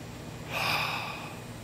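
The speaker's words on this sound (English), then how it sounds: "breathing in through your nose and out through your mouth" A single slow breath drawn in and let out, soft and close, with a gentle airy rush and no talking.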